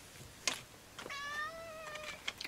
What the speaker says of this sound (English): I've got a mad cat.